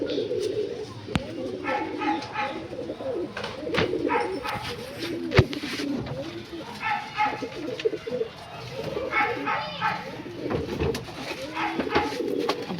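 Pigeons, old-line birds kept in a loft, coo repeatedly in soft rhythmic bursts close by, while someone talks intermittently and a dog barks once or twice in the background.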